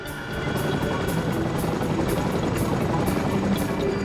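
A Chinook helicopter packed with troops and supplies bound for Bastion in Afghanistan, its heavy rotor chop pulsing rhythmically over a constant loud engine roar, steady and close throughout.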